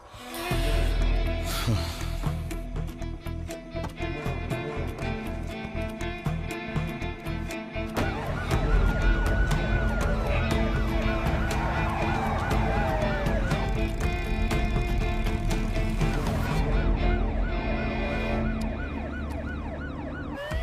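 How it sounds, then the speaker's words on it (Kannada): A wailing ambulance siren rises and falls continuously over a city street, loud and close, layered over traffic noise with faint voices in the background. "ಕುಲ್ಲಂಬಾಡಿ ಏರಿಯಾದಲ್ಲಿ ಒಂದು ಆಂಬ್ಯುಲೆನ್ಸ್ ತುಂಬಾ ಹೊತ್ತಿಂದ ಓಡಾಡ್ತಿದೆ."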